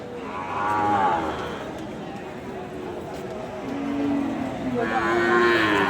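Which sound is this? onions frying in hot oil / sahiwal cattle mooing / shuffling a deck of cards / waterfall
sahiwal cattle mooing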